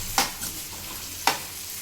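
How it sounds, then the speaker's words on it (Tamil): Broad beans sizzle in a hot pan with asafoetida, with a low steady fry and two sharp scraping stirs of a spoon, close, no voices. "அவரைக்காய் போட்டு வதக்கிட்டு"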